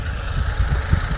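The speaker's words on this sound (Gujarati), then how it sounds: "આ જો એક જ ટ્રેક્ટર છે." A tractor engine runs steadily nearby, giving off a low, even rumble with a faint vibrating throb and no other sounds.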